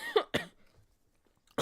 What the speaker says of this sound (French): Là, vous toussez, vous avez trop mal au poumon.